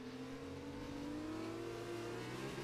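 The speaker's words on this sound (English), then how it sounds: "As we hear some cars drive past us on the straight heading into turn 11" Race cars in an F1 video game sweep past on the straight toward turn 11 at Bahrain, a steady whining engine drone with a gliding pitch, moderately faint and unbroken throughout.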